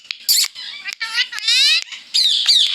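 A talking parrot gives a series of sharp, high squawks and chattering calls, loud and close, in short bursts separated by brief pauses.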